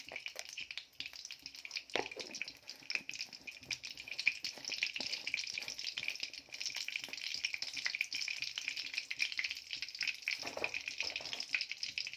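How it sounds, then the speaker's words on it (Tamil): Mustard seeds and fenugreek frying in hot oil, a steady close sizzle with faint crackles and pops running throughout, no talking. "எண்ணெய் நல்லா சூடாகினதுக்கு பிறகு கடுகு வெந்தயம் சரியான அளவு கடுகு வெந்தயம் போட்டாச்சு."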